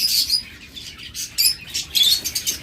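Pet lovebirds, cockatiels and budgerigars in a bird shop chirp and tweet in bright overlapping bursts, with several birds calling close by and no voices.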